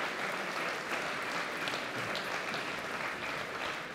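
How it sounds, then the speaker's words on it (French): The crowd at a professional padel match applauds at the end of the game, a dense, steady clapping spread across the arena and heard at moderate distance. "ils applaudissent le public, bravo à eux."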